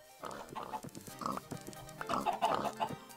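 Several short grunting oinks from a pig in Minecraft, a game sound coming in quick clusters with brief gaps, clear and close.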